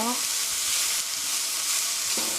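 Scrambled eggs and onions stir-frying in a hot pan give a steady, close sizzle with faint stirring scrapes, unbroken throughout and without talk.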